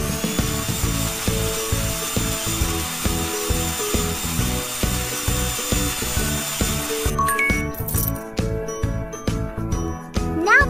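Cartoonish scraping and rubbing effects from a children's cleanup video game as algae is scraped off tiles, repeating in quick rhythmic strokes over steady background game music, with brighter tinkly tones joining near the end.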